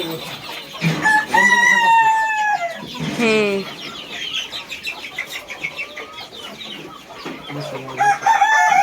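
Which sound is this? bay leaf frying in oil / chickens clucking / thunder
chickens clucking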